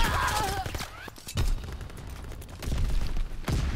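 Gunfire from a first-person shooter gun with a bright muzzle flash, several loud sharp shots at irregular intervals amid game noise and a faint sweeping tone, fairly close.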